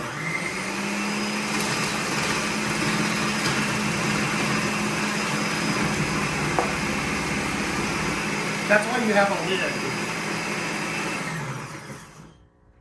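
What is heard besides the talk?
Ninja food processor chopping celery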